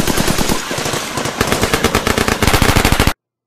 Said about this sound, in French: une bande de teubés qui tirent sur rien